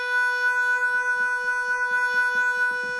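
Honkytonk Harmonica virtual instrument played with manual vibrato on the mod wheel, a steady reedy harmonica tone held alone with a gentle pulsing wobble throughout.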